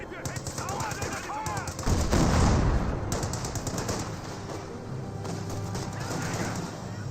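Pershing tank firing in Company of Heroes 2, heavy booming shots amid a dense, continuous wash of battle gunfire and explosions, with a particularly loud blast near the middle.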